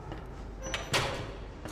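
In a video game, a subway train door slides open with a quick, close swish after a few faint clicks, then a smaller knock near the end, with no voices.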